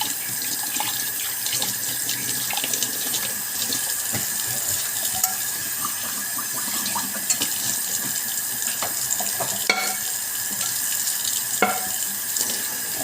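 Cassava is washed by hand under a running tap into a sink, with a steady close splash of flowing water and scattered clinks and handling knocks, no talk.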